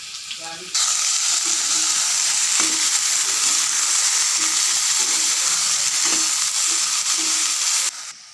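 Vegetables fry in a hot pan with a loud, steady sizzle that starts abruptly, holds evenly with faint stirring scrapes underneath, then drops off near the end.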